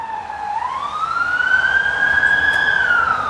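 A police car siren wails as it passes, a loud rising and sustained electronic tone that sweeps upward and holds across the few seconds, with no talking.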